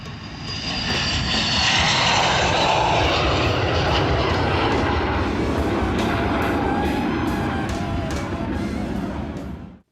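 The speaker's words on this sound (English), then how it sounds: "it was still a really big jet, and it's the biggest one I've ever seen take off at our airport" A large jet airliner taking off at a local airport, a loud sustained engine roar that swells and holds for about ten seconds, broadband and rumbling, with no talking.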